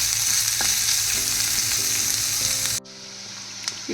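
Boiled sweet corn going into golden-brown onions frying in a pan: a loud, dense sizzle with stirring that cuts abruptly to a much quieter hiss partway through, with no speech.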